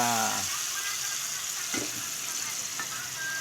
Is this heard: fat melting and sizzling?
yes